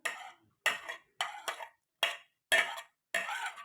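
Chicken kebab ingredients with salt, soy sauce and black pepper being mixed in a bowl: seven short, separate scraping clinks in an uneven rhythm, close and fairly quiet, with silence between them.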